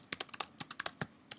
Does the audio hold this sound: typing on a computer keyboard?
yes